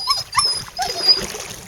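Dogs on a small boat give short, high whimpers and yips, a few brief cries close by over a low hum and faint water noise.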